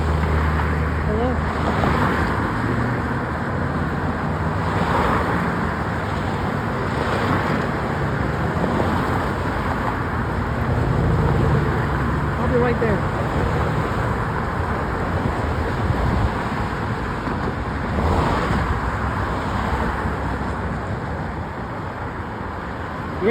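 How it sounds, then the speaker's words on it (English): Street traffic flows through the signalized intersection of Torrance Blvd, Del Amo Blvd and Crenshaw Blvd, a continuous broadband roar of passing cars with periodic swells as vehicles move through. "There's traffic on the street."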